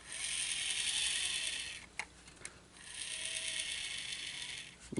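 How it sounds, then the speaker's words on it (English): A small motor inside a built R2-D2 model whirs quietly in two stretches, with a short pause and a couple of clicks between them. "you can hear the motor going"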